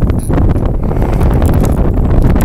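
A sudden strengthening wind while a DJI Phantom 3 drone flies a long-range flight pounds the microphone as a loud, constant low roar with brief gusting fluctuations.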